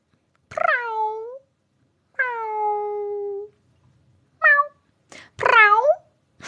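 A person imitates a cat's meow, giving four drawn-out, wavering mews, the last two short and close together. All are loud and close, with no other sound between them.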